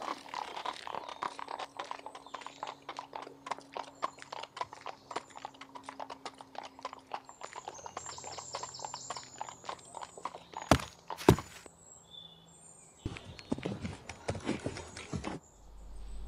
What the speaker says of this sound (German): Allerdings von Fenningen verfolgte die Kutsche, stoppte sie